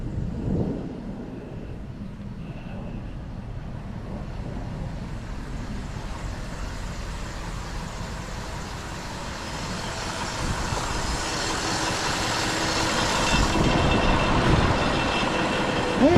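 A 2001 Cadillac Deville with a Northstar engine and a blown head gasket idling, a steady low rumble heard nearby with a cooling fan hum, growing slightly louder toward the end.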